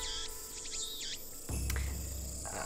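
Cicadas drone in shrill, wavering waves on a hot early evening in the video game Steins;Gate, loud and continuous, with a dull thump partway through that adds a low rumble beneath the insect chorus.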